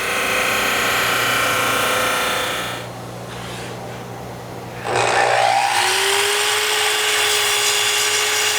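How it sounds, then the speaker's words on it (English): A drum sander running as a board is pushed through it, a steady loud machine whir that drops briefly, then surges into a harsher grinding roar with a rising tone as the wood feeds in. "I'm going to go ahead and just push this through the drum sander"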